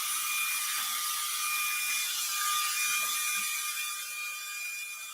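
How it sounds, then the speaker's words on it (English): A vacuum cleaner runs in its quieter eco mode, giving a constant, even, high-pitched whir that stays close and steady throughout with no voices. "I have the vacuum in eco mode right now"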